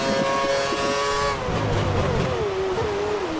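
An F1 car engine at full throttle in the racing game F1 2013, a loud, sustained high-pitched whine that holds steady and then dips in pitch near the end, with no voices.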